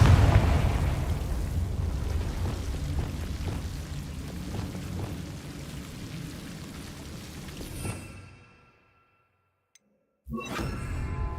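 The Confringo explosive spell goes off in the video game Hogwarts Legacy as a loud blast that rumbles and fades over several seconds, then near-silence, then another sudden burst of sound.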